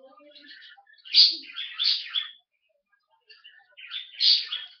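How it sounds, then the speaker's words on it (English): Pet birds chirp indoors in short, bright bursts of tweets, a few clusters separated by brief silences, close and moderately loud. "please tell me if my birds are annoying or not, because I think they're annoying"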